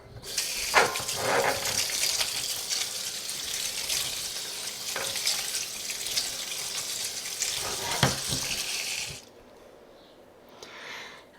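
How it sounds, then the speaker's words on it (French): Fresh, ripe organic strawberries rinsed under a running tap, a loud continuous gush of water with occasional splashes and handling knocks for about nine seconds, then the flow stops and faint rustling remains. "C'est pour ça que je les rince un coup."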